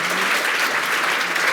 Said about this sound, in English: let's give Carlos and Hit a big round of applause.